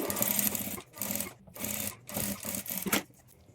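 A sewing machine stitches thread piping onto a sleeve in short bursts, about five quick runs of close mechanical whirring separated by brief pauses.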